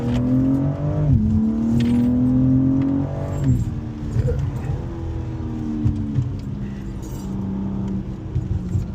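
A BMW M4 Competition drives on a winding hill road in California. The engine sits loud and close, climbing through the revs, dropping abruptly on gear changes, then pulling again with a softer, lower drone.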